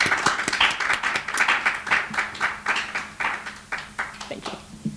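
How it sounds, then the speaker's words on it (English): An audience at a poetry reading claps for a poet, a moderately sized crowd producing uneven, rhythmic handclaps that rise and fall over several seconds, fairly close. "So if we could all give them a big round of applause for being here."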